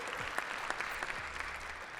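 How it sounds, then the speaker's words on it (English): An audience at a public health association meeting applauds steadily, a continuous even wash of clapping from a sizable crowd, moderately distant and sustained throughout. "Give yourselves a round of applause."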